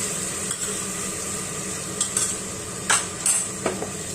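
Tomato paste made from two small tomatoes sizzles steadily in a pan over high flame. A spatula scrapes and stirs it in a few clear strokes over a constant frying hiss, with no voices.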